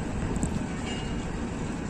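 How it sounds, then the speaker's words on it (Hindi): Pakistan Railways rail car pulling out of Gujranwala station bound for Lahore, a steady dense rumble of wheels and engine filling the whole stretch, fairly loud and continuous with no voices. "102 डाउन रेल कार गुजरांवाला से रवाना हो रही है लाहौर के लिए।"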